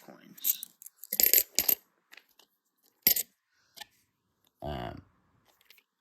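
Nickel 1 franc coins, about quarter-sized, clink and rattle in a few sharp metallic bursts, handled close up with quiet pauses between.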